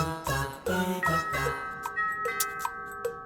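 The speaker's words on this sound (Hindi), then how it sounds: "कोई बेल बजा रहा है" A doorbell at home rings with repeated bright ding-dong chimes in quick succession, then a few more isolated chime strikes ring out and fade, fairly close and with no talking over them.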